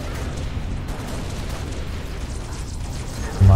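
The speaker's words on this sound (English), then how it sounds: "They threw a grenade at me." A grenade goes off in the Halo Reach video game as a loud, steady low rumbling roar that swells into a heavier burst at the very end, with no voices.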